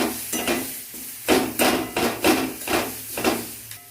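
Potato and eggplant with turmeric stir-fried in a pan, a spatula scraping and tapping the pan in a steady series of sharp strokes over a soft sizzle, close and without speech.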